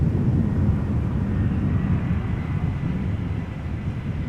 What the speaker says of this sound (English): EasyJet A319 arriving from Palma de Mallorca.